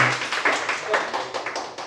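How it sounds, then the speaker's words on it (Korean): Brief applause from a seminar audience at a Korean talk on blockchain and franchising, a short burst of scattered claps close by, each clap distinct rather than a dense roar. "큰 박수"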